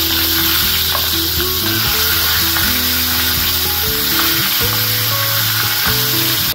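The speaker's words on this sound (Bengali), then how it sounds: "তেলটা ভালোভাবে গরম হয়ে গেলে নুন হলুদ মাখানো মাছের মাথাগুলো দিয়ে" Salted, turmeric-coated fish heads frying in hot mustard oil in a kadai, a loud, steady hiss of sizzling under background music with stepping tones, with no talking.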